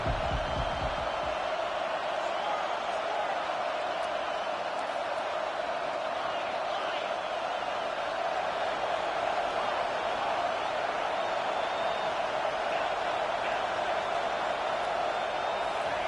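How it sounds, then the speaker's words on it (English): A stadium crowd in the College Football 25 video game roars on a defensive third down, a dense, steady wash of cheering that holds at an even level throughout, with no single voice standing out. "Decibels rising as the crowd gets behind this defense on third down."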